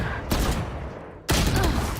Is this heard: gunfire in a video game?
yes